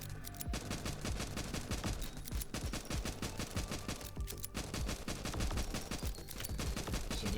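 Dense, rapid gunfire in the Nimrods video game, tearing through a wooden fence in a nonstop crackling barrage of overlapping shots, loud and close throughout.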